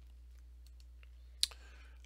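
A single sharp mouse click lands during network-analyzer software setup, brief and fairly close against a quiet room hum.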